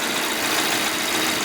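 A Volvo B4204 T35 engine runs steadily during its first run, with flushing liquid in for an oil flush, giving an even, broadband hum close by.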